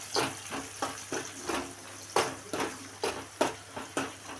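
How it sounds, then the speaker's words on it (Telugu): Carrot curry with fenugreek and coriander being stirred in a pan, a steady run of scraping strokes over a soft sizzle, close and fairly loud with no talking. "కొంచెం కొత్తిమీర వేస్తున్నా చూడండి ఇట్లయితే నేను ఇప్పుడు కలిపేస్తున్నా"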